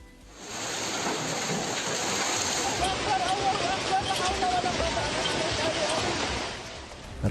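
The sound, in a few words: hailstorm with strong wind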